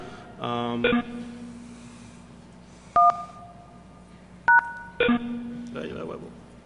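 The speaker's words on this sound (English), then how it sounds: "call the PBX using a soft phone, so it's gonna be SIP directly to the PBX" Softphone dialing a PBX directly over SIP: a few crisp, loud DTMF key tones spaced a second or two apart, mixed with other electronic signal bursts and a steady hum, with no voices heard.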